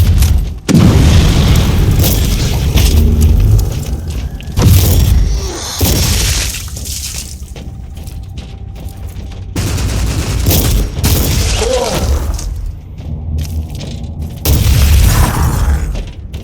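Heavy grenade explosions from the game Warhammer 40K Inquisitor Martyr boom repeatedly and loudly across the whole stretch, dense blasts with shattering debris over constant battle noise, with no talk.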